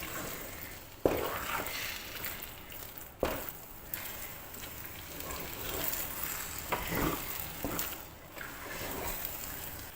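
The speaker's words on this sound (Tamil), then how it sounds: "கிளறிக்கிட்டே இருங்க." A spoon stirs urad dal kali dough cooking in sesame oil, making a steady low scraping and soft sizzling with a few sharp knocks against the pan, close up and continuous, with no talk over it.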